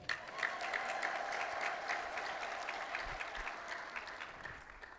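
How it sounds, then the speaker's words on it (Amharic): Steady, dense applause from a large crowd gathered at a church celebration, sustained throughout at full strength with no talking over it. "አሁን ይሄ ደስታ ጭብጨባ ነው።"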